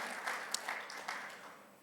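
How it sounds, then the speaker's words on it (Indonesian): A church congregation at an Indonesian Sunday service breaks into brief applause. The clapping is soft and somewhat distant, swells briefly, then fades. "Tepuk tangannya yang menyenangkan hati Tuhan."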